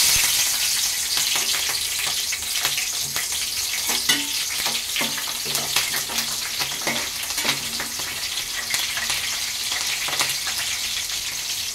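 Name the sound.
green chillies frying in hot oil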